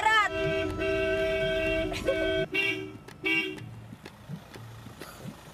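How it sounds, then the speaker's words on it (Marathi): A car horn honks on a road in a series of loud toots, one long blast followed by shorter repeated beeps, with people talking beneath. "कुणी वाजवला रे हॉर्न?"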